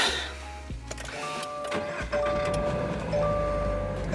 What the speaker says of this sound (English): Oh yeah, that's a loud cold start.